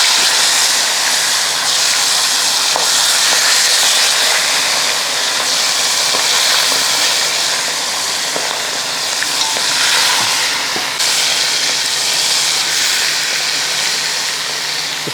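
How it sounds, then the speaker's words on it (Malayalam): Steady, loud sizzling of chicken shallow-frying in hot oil over low heat, a continuous crackling hiss with occasional pops throughout. "ഇനി ചിക്കൻ അങ്ങോട്ട് വറക്കാം"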